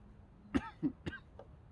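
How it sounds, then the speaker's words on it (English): Three or four short, dry coughs in quick succession, close and moderately loud, against a quiet background. "I just keep on coughing, and it's kind of annoying."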